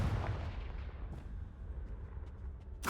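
A Confringo blast spell explodes in the Hogwarts Legacy video game, a deep, rumbling boom that starts loud and decays into a low roar, ending in a sharp burst of noise.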